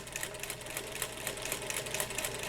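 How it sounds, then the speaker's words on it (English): A sewing machine stitching through a quilt block runs at a slow, steady, even pace, its rapid needle clatter close and continuous with no talk. "I go ahead and finish off sewing"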